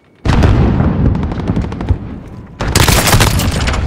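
P90 submachine gun fired in a video game, loud sustained rapid-fire bursts with a brief pause between two long strings of shots.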